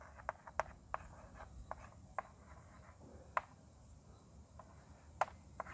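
Chalk or marker writing on a classroom board during a grammar lesson, heard as a series of sharp taps and short scratchy strokes spaced irregularly, fairly quiet against a faint room background with no talking.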